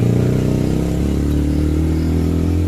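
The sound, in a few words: Suzuki Raider motorcycle engine revving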